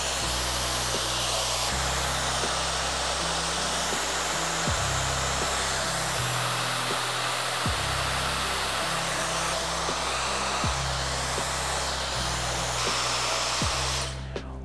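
A hair dryer blows steadily and loudly at close range through nearly the whole stretch, a continuous whooshing roar with small shifts in pitch as it moves around a client's hair during a one-length haircut, cutting off abruptly at the end.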